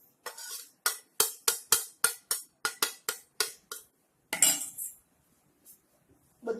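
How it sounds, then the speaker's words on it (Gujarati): A spoon scrapes and clinks against a steel bowl, about a dozen sharp strokes in a steady rhythm. It is stirring a spice mix of pepper, cinnamon, clove powder, salt, asafoetida and ajwain for ratlami sev, then goes quiet. "બધું નાખી દીધું છે અને હવે આપણે એને પ્રોપર હલાવી દઈશું જેથી મિક્સ થઈ જાય."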